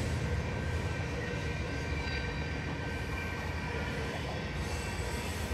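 A passing train heard at Fort Langley National Historic Site, a continuous low rumble of rolling wheels and rail noise that stays steady and fairly close throughout, with no talking over it.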